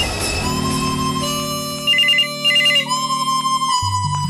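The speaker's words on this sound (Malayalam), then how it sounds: "ഫോൺ അടിക്കുന്നുണ്ട്." A telephone ringtone plays loud and close, a bright electronic melody with repeated trilling phrases, alone without voices.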